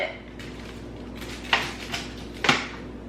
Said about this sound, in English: The only thing you have to do now is just put a lid on it